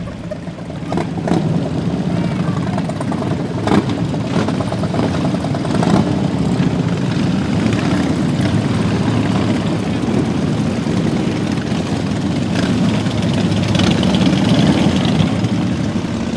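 A motorcycle engine runs steadily during a Wounded Warrior charity ride with about 150 other riders, heard as a loud, continuous rumbling drone with no break.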